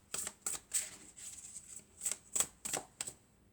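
Tarot cards shuffled and handled by hand in a quiet room, a series of crisp riffling bursts and soft flicks repeating in an uneven rhythm, close and fairly quiet with no talking.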